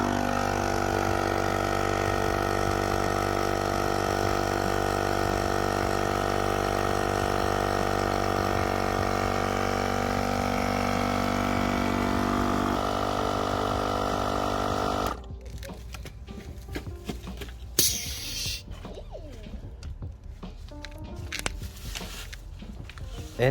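Portable tire inflator with a built-in flashlight pumping air into a Honda Civic Type R winter wheel, droning steadily and loudly for about fifteen seconds before cutting out, leaving scattered handling clatter and rustles.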